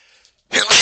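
A single sharp sneeze bursts out loud and close after a brief quiet moment.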